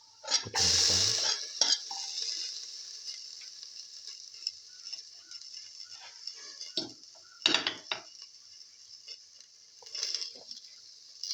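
Egg and potato pilaf with fenugreek leaves sautéing in a pan, with a steady faint sizzle throughout and a burst of clattering as ingredients go in near the start. Scattered scrapes and utensil clinks follow, close and fairly quiet.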